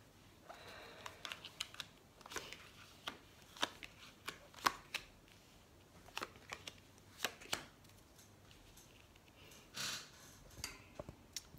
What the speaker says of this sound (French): on va faire un tirage en 9 cartes